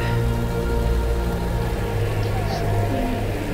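Steady, heavy rain falls in the Tomb Raider video game, a constant hiss over a low droning rumble that never lets up.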